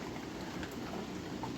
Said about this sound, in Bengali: এই টিনের মধ্যে এই যে বৃষ্টির ফোঁটাগুলো পড়তেছে